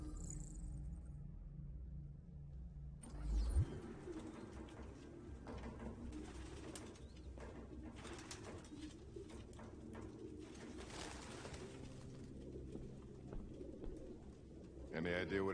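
Pigeons coo softly in a Detroit: Become Human game scene, a low burbling chorus that carries on beneath game ambience and a faint low rumble.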